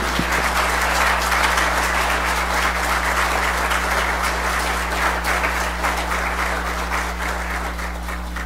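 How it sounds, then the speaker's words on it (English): A church congregation at a Lutheran worship service applauds, a dense sustained clapping from many hands filling the room evenly for several seconds over a steady low hum. "let us all show our appreciation for these young minds with an applause."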